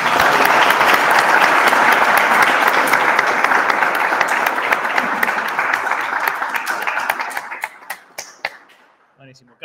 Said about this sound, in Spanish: Bueno, primero aplausos.